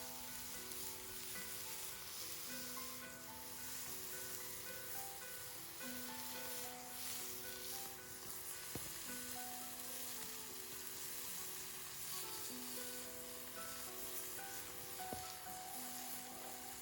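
Teriyaki chicken sizzling on a griddle, a steady, soft frying hiss with light crackles throughout, quiet and continuous with no talking.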